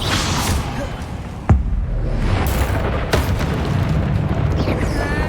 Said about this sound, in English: Confringo. Expelliarmus. Bombarda.